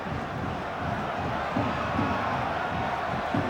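A football match crowd at a stadium, a broad steady roar of many voices rising and falling, with restless surges of noise, heard from a distance throughout.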